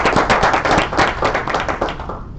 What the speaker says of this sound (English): let's give a round of applause then.